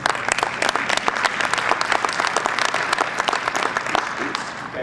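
An audience at an education summit claps loudly and steadily, many sharp individual claps forming a dense, continuous burst that holds across the whole stretch before easing slightly at the end.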